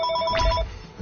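An in-game telephone in Legacy of the Duelist rings with a sustained electronic double-tone warble, clear and steady, then breaks off briefly before starting again at the very end.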